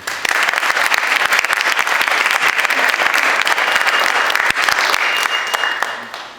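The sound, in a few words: audience applause at a university talk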